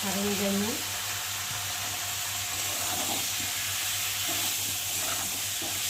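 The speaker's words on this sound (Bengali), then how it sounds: "মশলাটাকে একটু ভালো করে ভাজা ভাজা করবো" Spices with ginger, onion and cumin fry in a pan for a prawn dish, giving a continuous loud sizzling hiss with occasional stirring noises and no clear talk.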